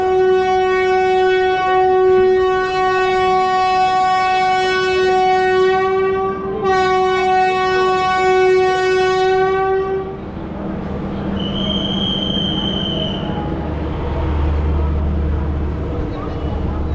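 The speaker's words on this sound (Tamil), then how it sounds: "ஸ்பெஷல் ஃபேர் எக்ஸ்பிரஸ் பார்த்தீங்கன்னா சரியாக இன்னும் 1 நிமிஷத்தில் நம்ம கரெக்டாக தாம்பரம் ரயில்வே ஸ்டேஷன் வண்டி எடுத்து கிளம்ப போகிறோம்" A Special Fare Express train at Tambaram railway station sounds a long, loud, steady horn for about ten seconds, which breaks off briefly partway through, then gives way to rumbling, squealing wheels and engine noise as it departs.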